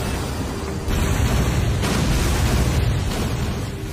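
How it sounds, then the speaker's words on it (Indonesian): Big explosions in an animated fantasy battle rumble as a continuous heavy roar, a loud deep boom kicking in partway through and holding steady to the end. "Chinan kemudian menyerang menggunakan teknik Baixuan Babu sehingga ledakan-ledakan besar terjadi."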